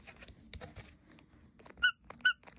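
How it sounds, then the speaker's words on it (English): A squeaky toy snowman is squeezed, giving two clear, bright squeaks close together near the end, after a few faint, soft squeaks and quiet handling noise. "When you see the word snowman, give the snowman a squeak."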